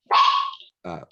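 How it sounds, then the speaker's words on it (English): A single short, squeaky yelp followed by a brief rougher yip, close and fairly loud, with silence between them. "That was a dog?"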